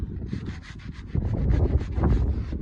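Rubbing while cleaning copper grease off the surface of a wheel hub on a Suzuki Swift, a close, steady scrubbing that grows louder and more vigorous halfway through.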